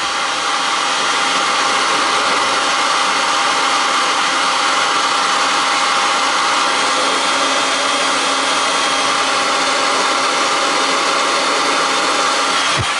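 A heat gun warms a CPU so its gold pins can be scraped off, giving a steady, loud, continuous blowing roar with an even hiss throughout and no speech.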